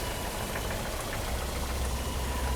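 A 1982 Mercedes-Benz W123 230E engine idles while warming up after fuel distributor repair work, a steady, close, low rumble with a faint knock running evenly throughout and no talking.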